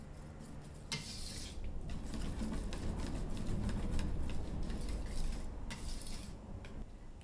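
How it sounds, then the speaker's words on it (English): A whisk works cream into melted chocolate for ganache, giving a steady wet scraping and light clinking against the bowl that runs close and continuous for about seven seconds with no talking. "And just stir until it's all combined."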